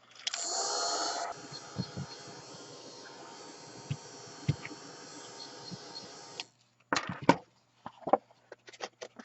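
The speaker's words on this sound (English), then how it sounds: "And back to the heat tool." A heat embossing tool at a craft table blows a steady, close whirring rush, loudest for the first second, then holds for several seconds before cutting off, followed by a few sharp handling clicks and taps.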